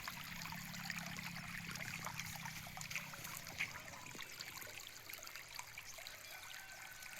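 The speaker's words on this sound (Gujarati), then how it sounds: "ડાયરેક્ટ મોટરનું પાણી ચાલુ છે ધોરીયાથી" Irrigation water pumped by a motor trickles and gurgles along an earthen field channel beside a gram crop, a faint, continuous flow with small splashes.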